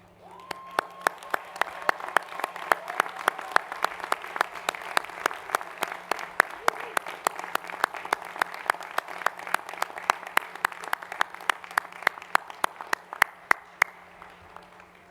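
A standing audience at a university commencement in Mississippi claps for faculty and staff: steady, fairly distant applause of many hands in a large hall, with a few sharp individual claps standing out, and no voices.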